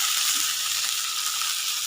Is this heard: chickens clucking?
no